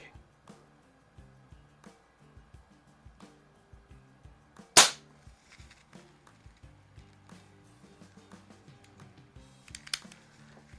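A 1946 Benjamin 137 vintage airgun fires once with a sharp, loud crack amid a steady series of soft ticking clicks, with a second fainter snap near the end.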